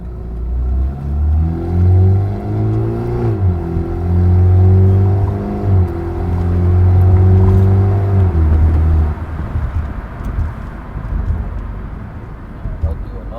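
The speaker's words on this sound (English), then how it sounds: "Mild takeoff from second gear in comfort mode." A BMW 330i LCI with its resonator deleted pulls away mildly from second gear in comfort mode: a deep engine drone rising and falling through a few surges, heard from outside, loud and close, fading to a lighter rumble toward the end.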